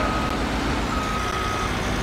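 Reversing beeps from a tractor in Farming Simulator 19, a steady continuous tone held over a low engine rumble, moderately loud and unbroken.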